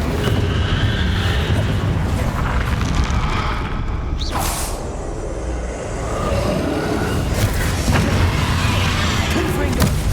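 Hogwarts Legacy combat with rapid spellcasting, including the Incendio fire spell, brings dense booming bursts and whooshing blasts layered over a continuous roar, with a sharp flare of impact near the middle.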